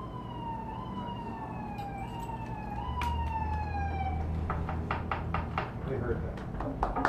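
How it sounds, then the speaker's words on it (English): A fire engine siren wails in descending sweeps in the rain, then gives way to a series of sharp knocks and clatters, with steady traffic rumble underneath. "Fire engines wailing in the rain"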